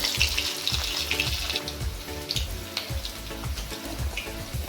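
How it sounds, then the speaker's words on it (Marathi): Three or four garlic cloves dropped into well-heated oil for a Konkan-style bangda curry, crackling and sizzling steadily up close with faint stirring clinks. "आता आपलं तेल चांगलं गरम झालेलं आहे आता त्याच्यात मी तीन चार लसणाच्या पाकळ्या टाकते"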